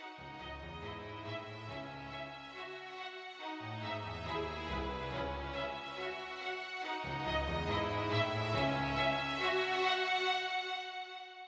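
Sustained violin-sample string melody with a rich, layered tone, swelling gradually louder over several phrases with brief breaks between them; no voices.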